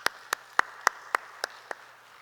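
Members of a church congregation at a revival meeting clapping in welcome for a preacher: about seven sharp, evenly spaced claps ringing out in a quiet hall, the later ones gradually softer.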